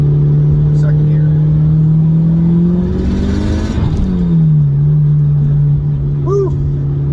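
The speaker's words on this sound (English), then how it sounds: "That was just a sort of second gear partial pull." A Mitsubishi Lancer Evo 6 pulls hard in second gear on an open road, its engine note climbing steadily in a loud, close drone before dropping back briefly and settling into a steady hum.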